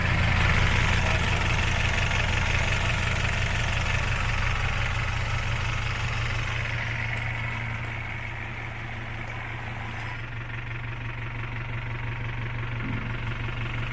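An Isuzu Elf mini dump truck with a 4BE1 engine idles in Davao, Philippines, giving a steady, even low hum that holds throughout and eases slightly partway through, with no talk.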